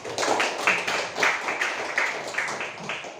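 An audience at a question-and-answer session claps, a fairly sparse patter of hands with distinct sharp claps in an uneven rhythm, moderately loud and without speech.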